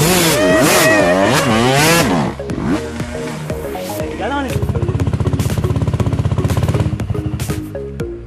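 A trail motorcycle engine revs hard with rising and falling pitch, then settles into a steady, loud, rapid chugging idle-throttle pulse, with a voice speaking over the start.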